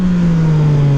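Close, loud, sustained engine note from a Yamaha MT-09 motorcycle revving for a wheelie, a steady harmonic drone that sags slightly in pitch toward the end, with no one talking.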